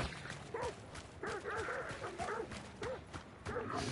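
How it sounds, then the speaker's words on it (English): Dogs barking inside a video game, a string of yipping, bow-wow barks and whimpers heard faintly at a distance, repeating irregularly over low background noise. "Is that those dogs?"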